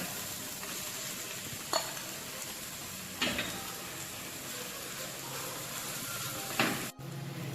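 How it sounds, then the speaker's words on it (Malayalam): Minced beef sizzles steadily in a hot pan as it is stirred, a continuous frying hiss broken by a few scraping clicks of the utensil against the pan, close and alone without talk. "ഇനി ഈ ബീഫ് ഇതിലേക്ക് ഇട്ട് കൊടുക്കാം"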